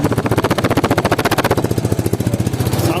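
Jamuna 150cc motorcycle engine running at a trade fair, a loud close rapid pulsing putter with evenly spaced firing beats that loosen slightly toward the end.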